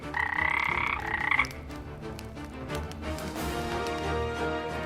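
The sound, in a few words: toad croaking, storytelling sound effect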